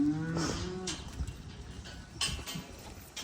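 Cattle moo on a farm: a drawn-out low moo opens, then shorter calls follow near 2.3 seconds, all at moderate distance over steady outdoor background noise with no talking.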